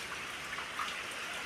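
Steady rain falling during the rainy season makes a soft, even, continuous hiss. It stays fairly faint and unbroken, with scattered drop ticks and no voices.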